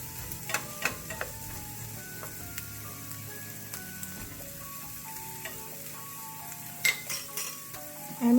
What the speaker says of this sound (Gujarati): હવે આપણે એની અંદર કેપ્સિકમ એડ કરીશું અને એને બી થોડાક ફ્રાય કરીશું.